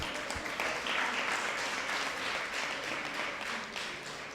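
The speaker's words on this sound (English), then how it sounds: "give yourself a round of applause" An audience at a community meeting on child care costs gives a steady round of applause that holds evenly from start to finish, with no talk over it.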